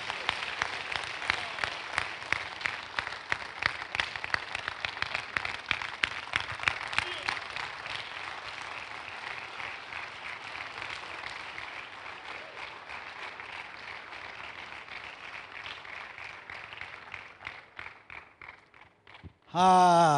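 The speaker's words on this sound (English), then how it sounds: "Clap your hands and stand to your feet." A church congregation applauding together, a dense wash of hand claps that holds strong for several seconds, then thins and fades toward the end before a brief loud sound cuts in.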